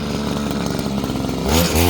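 A small engine-powered mini hammer bought from Temu runs with a loud, rapid buzzing chatter up close, surging louder and rougher near the end.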